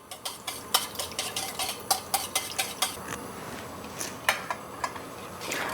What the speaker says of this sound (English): So you want to get that nice and whisked up before we put it on the stove.